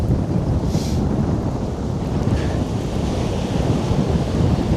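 Strong wind on the Northumberland coast buffets the microphone in a loud, unbroken rumbling roar, with no voices heard.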